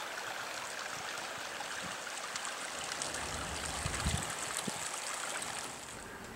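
Mountain creek water flows steadily along Mammoth Creek in Mammoth Lakes, California, a continuous broadband rush and trickle with a slightly stronger surge near the middle, with no voices present.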